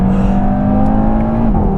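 An Audi TT RS accelerates hard out of a corner on the road, its engine note loud, close and sustained, rising in a steady whir before dropping near the end as the driver shifts.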